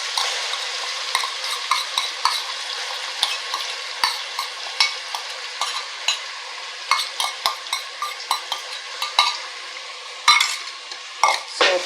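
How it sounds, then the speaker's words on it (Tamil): Ground mint, coriander, ginger and garlic paste sautéing in a pan for chicken leg biryani, a steady close sizzle broken by frequent sharp clinks and scrapes of a spoon stirring against the metal, with no talking. "வதக்கி விடலாம். பச்சை வாசனை போகிற அளவுக்கு நல்லா நம்ம வதக்கலாம்."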